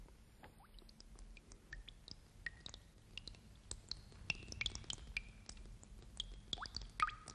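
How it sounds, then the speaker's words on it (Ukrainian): Water dripping from a leaking bucket onto the floor, faint scattered drips and small plinks falling irregularly at close range, with soft wet clicks between them. "Може, відро протікає?"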